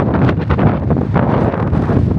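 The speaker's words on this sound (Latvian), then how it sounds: "ļauj jums klausīties, kā vējš pūš" Strong wind gusts in Los Angeles, California buffet the microphone, a loud rumbling roar that surges and fades in uneven bursts.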